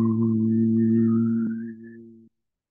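A single sustained healing tone for kidney release during a healing class holds steady and fairly loud for about two seconds, then cuts off cleanly into silence.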